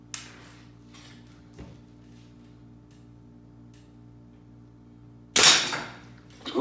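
A single loud, sharp gunshot is fired at random items on a shooting range. It comes near the end, after faint ticking sounds and a low steady hum.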